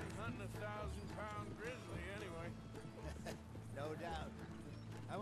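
Horse hooves clopping behind the player in the video game Red Dead Redemption 2, a rhythmic clip-clop partly masked by voices and a dense background soundtrack.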